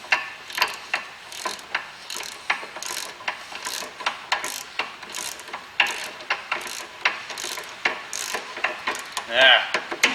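A socket wrench ratchets on a very rusty rear brake bolt of a 2011 Ford Mondeo Mk4, giving short, irregular bursts of close metallic clicking with pauses between strokes.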